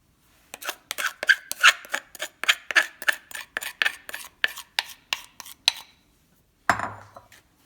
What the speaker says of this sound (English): To make the batter, I'm going to mix the dry ingredients first.